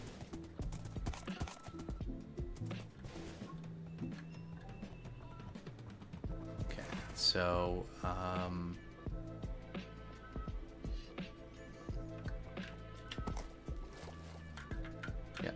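A horse in the video game Minecraft, GT New Horizons modpack, clip-clops and gives a short whinny under steady game background sound, with brief talking near the start.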